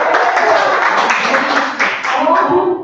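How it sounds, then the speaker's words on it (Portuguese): Brief, loud applause from an audience at a public health training session in honor of a speaker, a dense wash of clapping mixed with voices. "Olha aí, palmas para ela!"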